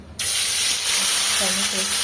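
Ground spice paste dropped into hot oil in a kadai bursts into a sudden loud, steady hiss and sizzle that carries on close-up after a brief quiet start.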